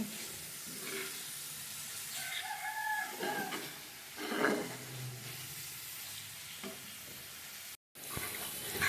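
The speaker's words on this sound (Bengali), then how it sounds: "এবার আমি ভালো করে একটু নেড়ে নেব" Food frying in a pan while being stirred, a steady sizzle with scraping, and a rooster crowing nearby in the background.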